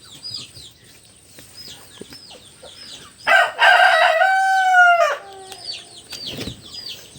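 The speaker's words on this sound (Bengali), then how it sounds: "কসিনো মুরগি" Cochin chickens cluck and chatter close by, then a rooster lets out one long, loud crow before the clucking resumes.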